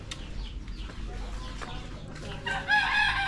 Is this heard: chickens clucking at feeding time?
yes